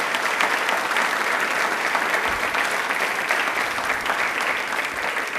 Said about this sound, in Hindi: प्लीज एक बार जोरदार तालियां हो जाए वापस से